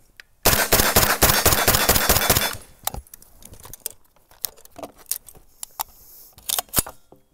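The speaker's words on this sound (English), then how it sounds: "you should probably shoot it because this is a very fun gun to shoot." A KUSA KP9 9mm direct-blowback submachine gun fires one rapid automatic burst of about two seconds, loud and close, followed by scattered clinks and handling noises.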